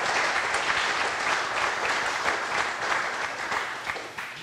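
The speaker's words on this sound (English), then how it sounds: "And the crowd goes wild." An audience at a men's seminar question-and-answer session breaks into loud, sustained applause that fills the hall and tapers slightly at the end, with no voices.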